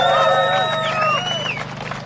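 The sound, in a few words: protest crowd applause and cheering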